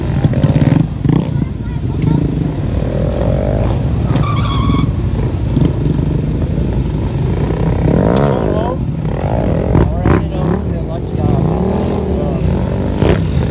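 At a stunt lot, several motorcycles rev and roar nearby as riders pull wheelies, with engines rising and falling and occasional tire squeal, while people talk loudly over the noise.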